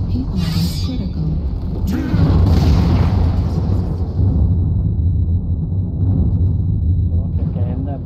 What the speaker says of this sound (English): Incoming missile. Target destroyed.